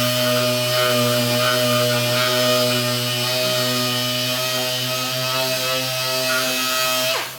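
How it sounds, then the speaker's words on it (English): Power sander running on primed kitchen cabinets being prepped for paint, a loud steady motor whine with buzzing harmonics that holds for about seven seconds, then winds down and cuts off. "Then you take your sander and you sand"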